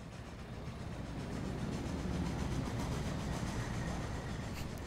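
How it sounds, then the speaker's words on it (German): Spaceship in the Super Mario Odyssey video game, whose engine gives a steady, chugging rumble like an old steam train, holding at a low, even level with a faint rhythmic pulse and no talk. "Die Odyssee klingt wie so ein alter Zug."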